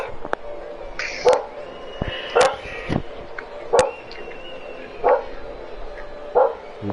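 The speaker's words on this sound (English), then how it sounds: "You could hear the dog barking in the background." A security guard's dog barking in short, spaced bursts, roughly five or six sharp barks over several seconds, moderately close with some background noise and no talk.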